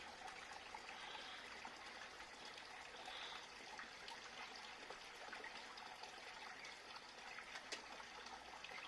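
Water pumped through a DIY Bakki shower filter flows and trickles steadily for several seconds, a continuous splashing stream with no voices.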